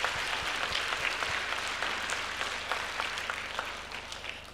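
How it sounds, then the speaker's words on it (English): Audience at a middle school band winter concert claps steadily for the students chosen for AMI Band, a dense, even patter of applause lasting throughout without voices. "can we give them a big round of applause for making AMI Band this year?"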